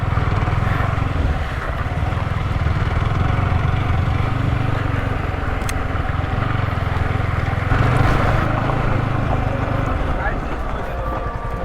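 Sports motorcycle ridden on a rough, waterlogged offroad track, its engine droning loudly and steadily throughout at close range with no break.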